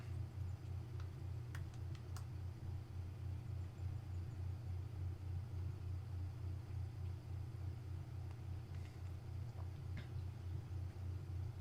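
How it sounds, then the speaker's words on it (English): Pickup truck engine in Farming Simulator 2017 holds a steady low rumble throughout, moderately loud and continuous with no talk over it. "This truck has a lot of get up and go, so I recommend you do not floor it right away because it gets pretty squirrely pretty quick."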